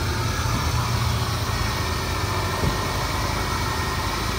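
A 2001 Buick LeSabre Custom's V6 idles steadily under the hood, a low, even hum with a faint background hiss and no talking.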